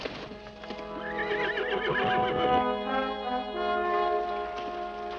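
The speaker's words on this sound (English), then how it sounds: "Horse." A horse whinnies loudly in a 1930s Western film scene, a long wavering neigh that rises and trails off, with hoof clip-clops and a faint outdoor background beneath it.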